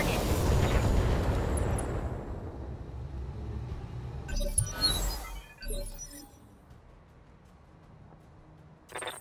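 Weapons fire and explosions in the BattleTech video game: a heavy rumbling blast fades out, then sharp crackling impacts and clinks follow, with another short burst at the end.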